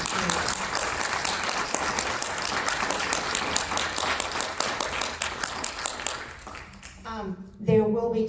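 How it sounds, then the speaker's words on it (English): Audience applause for the candidates at a county and circuit judicial candidates forum, sustained clapping from a roomful of people that fades near the end as a voice begins speaking. "let's give them a round of applause."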